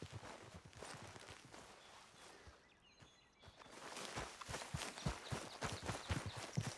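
Rhythmic clip-clop of horse hooves on hard ground in the video game Red Dead Redemption 2, a steady trotting beat that pauses briefly before resuming louder and closer.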